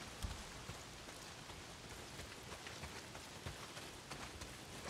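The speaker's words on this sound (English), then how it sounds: "Not if it's pissing down rain." Heavy rain pours steadily in the video game Days Gone. It keeps up a dense, even hiss with scattered raindrop taps, quiet and continuous, and nobody speaks.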